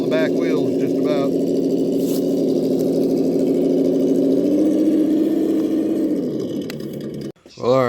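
A Pro Boat Aerotrooper 25-inch brushless RC fan boat motor runs at a steady high-pitched whine, holding loud and even for several seconds, then dropping away sharply near the end, with a brief surge after.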